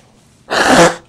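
One loud, close sneeze bursts out abruptly after silence and fades within half a second.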